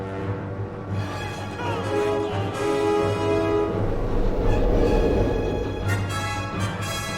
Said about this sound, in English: All right, Jedediah, stop the train, please.